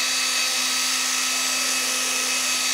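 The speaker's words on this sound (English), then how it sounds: "Let the drill do all the work." An electric drill whirs steadily while sharpening a chainsaw chain, a continuous loud high-pitched tone with a fixed hum and no break.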